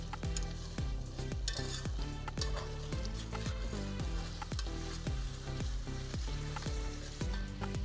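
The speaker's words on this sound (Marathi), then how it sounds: "खाली चिपकायला नको म्हणून सतत चम्मचनी फिरवायचं आहे" Green chilli paste for a spicy Vidarbha-style brinjal curry sizzles steadily in a pan while a spoon stirs it. Regular scraping strokes, roughly one every half second, sound up close over the continuous frying hiss.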